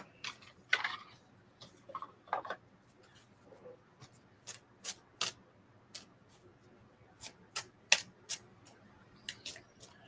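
A Heaven's Guidance oracle card deck being shuffled, heard as a string of crisp, separate card riffles and snaps spread across the stretch, fairly close and moderately loud over a faint background hum, with no talking.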